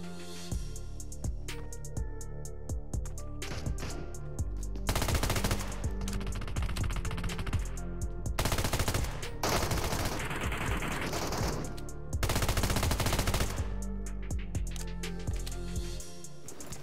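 Automatic gunfire in the Metro Royale video game, with repeated rapid bursts of shots in two louder stretches over a busy in-game background, no talking.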